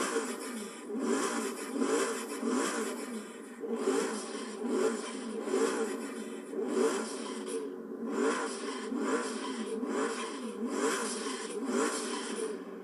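A Noble M600 with a turbocharged engine revs and roars steadily in the Forza Horizon 3 racing game, its rhythmic surging and turbo whoosh filling the whole stretch without any talk.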